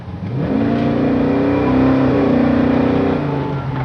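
A 1970 Chevrolet Chevelle SS with a big block V8 accelerates from near a stop, its loud, deep engine note rising steadily in pitch and holding strong throughout, close by with no talk.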